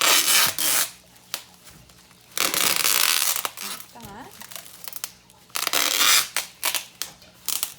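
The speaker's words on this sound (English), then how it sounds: "Oh, the sound of tape." Loud bursts of packing tape being pulled off the roll and pressed down, several long rips with crinkling in between and a brief spoken remark.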